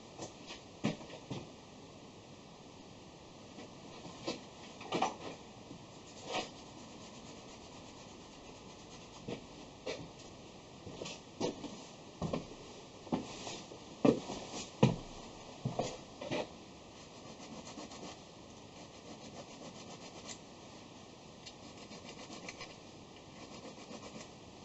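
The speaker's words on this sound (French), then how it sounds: "On a la petite lime." A small hand file deburrs the edges of a machined metal part, giving short, intermittent rasping strokes in uneven bursts, close and moderately loud, with no talking.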